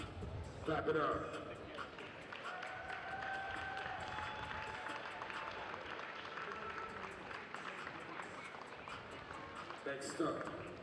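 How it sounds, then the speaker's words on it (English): A crowd applauds steadily at the FIBA 3x3 AmeriCup 2022 basketball medal ceremony as Team USA receives bronze medals. The even, fairly distant clapping runs throughout, with an announcer talking over it. "Clap it up."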